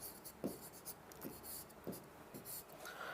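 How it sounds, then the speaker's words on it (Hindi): Chalk or marker writing the next question on a board, soft scratchy strokes with rhythmic taps at regular intervals, faint and steady with no talk over it. "अगला प्रश्न लिख रहा हूं मैं"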